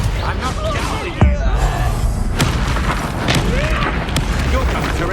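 A Confringo blasting spell explodes in Hogwarts Legacy, with a sharp booming impact early on among further thuds and rumbling combat effects, while voices speak over the fight.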